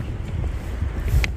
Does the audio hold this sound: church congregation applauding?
no